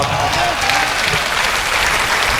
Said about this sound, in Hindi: अभी तालियां आपकी कम आई है